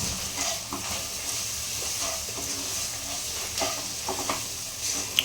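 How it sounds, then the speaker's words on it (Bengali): Ground cumin, turmeric and Kashmiri chilli fry in a pan for a fish-head cabbage jhal, with a soft, steady sizzling hiss and occasional stirring scrapes, close and fairly quiet, with no talking. "জিরে গুঁড়া হলুদ গুঁড়া কাশ্মীরি লঙ্কা গুঁড়া এটা কষতে হবে"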